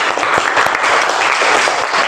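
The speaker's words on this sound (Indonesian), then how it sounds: "tepuk tangan buat Farid" A class in a teacher-training session breaks into loud, close clapping for Farid, a short, dense burst of applause lasting around two seconds.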